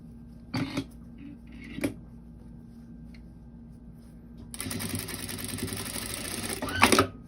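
A sewing machine stitching a doll's sleeve, heard after a couple of sharp handling clicks, then running steadily for a few seconds at close range before stopping.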